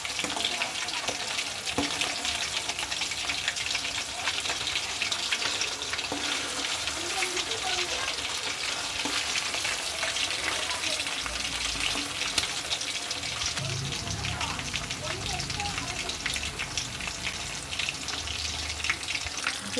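Chicken 65 sizzling and frying in hot oil in a pan, a loud, continuous crackling hiss that lasts throughout, with some stirring and clattering underneath.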